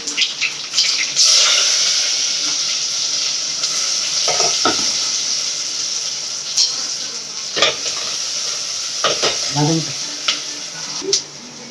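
Green chili and onion frying in a pan while fish, prawn and chicken dishes are cooked: a close hiss of oil broken by spoon scrapes, clinks and bursts of spatter, with a brief murmur of speech.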